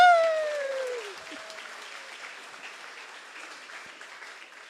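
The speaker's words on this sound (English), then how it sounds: "Another round of applause, please, for Alice Xavier." An audience at a San Francisco mayoral candidates' forum breaks into applause, opening with a loud whoop that falls away, then a dense wash of clapping that slowly fades but keeps going.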